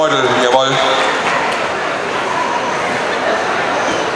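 A dog in training barking and yipping during agility work, a couple of sharp close barks near the start followed by steady outdoor noise and someone talking throughout.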